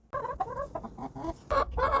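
Backyard chickens cluck in their pen, a close run of short, throaty calls in quick clusters, ending with a louder, fuller burst.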